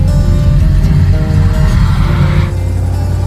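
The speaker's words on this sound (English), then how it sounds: "I hear the tires. Tires are already stuck." A '73 Corvette chassis being flat towed with its tires dragging, heard as a loud, rough low rumble of scraping and rolling that drops off abruptly partway through, leaving a quieter drone.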